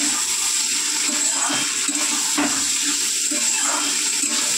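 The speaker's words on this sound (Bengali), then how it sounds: "এবারে আলুটা সেদ্ধ হওয়ার জন্য সামান্য একটু জল দিয়েছি।" Water splashing into a hot pan of frying potatoes and prawns sends up a loud, steady rush of hiss and sizzle that fills the whole moment, with no talking.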